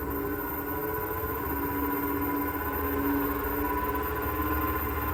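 A wood lathe spins a balanced wooden block at high speed, around 1,300 RPM, while it is rounded off for a beehive-style hummingbird house; a steady, loud, even whir with a constant hum runs throughout without pause.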